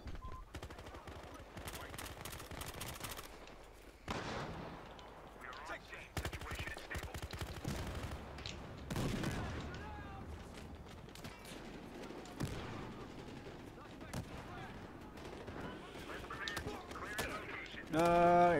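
Automatic M4 rifle fire in the multiplayer shooter Battlefield Hardline: rapid bursts of gunfire run through the whole stretch amid other game sounds, with a player's voice talking over it.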